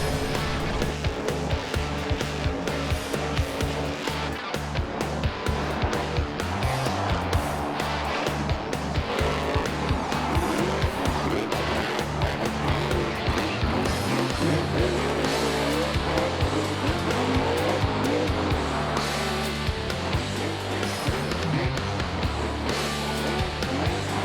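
A monster truck spins cyclones in Sam Boyd Stadium, Las Vegas, at a 2013 Monster Jam show: a loud, sustained engine roar with repeated tire squeals and skidding throughout, under constant arena noise.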